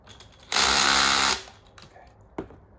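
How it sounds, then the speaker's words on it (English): A power drill fitted with a snug bit whirs in one loud burst of just under a second as it backs out a screw on a rear e-bike hub motor, followed by a few soft clicks and handling knocks. "I'm just gonna be using a drill right here that has the appropriate bit"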